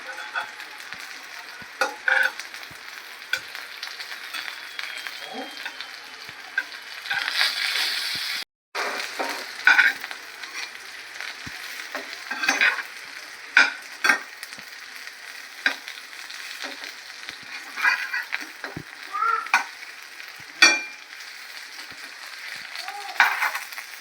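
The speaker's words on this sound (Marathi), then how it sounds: "आता आपले एक साईडला भेंडी भाजून झालेली आहे" Stuffed okra roasts in a pan on the stove, giving a soft, continuous sizzle punctuated by scraping stirs and light clinks of a spatula, close by and moderately loud, with a brief gap partway through.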